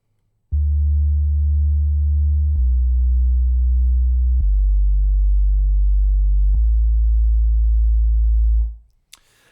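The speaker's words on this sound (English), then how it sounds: "just play a little bit of what that sub bass sound sounds like" A sub bass synthesizer holds four long, deep, pure tones in sequence, each stepping to a new pitch, loud and smooth with no other sounds, before cutting off abruptly.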